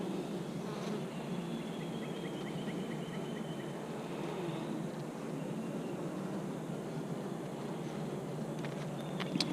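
Dense, steady buzzing of many honeybees close by in a long hive, a continuous droning hum with no voices.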